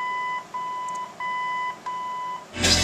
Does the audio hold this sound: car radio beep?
yes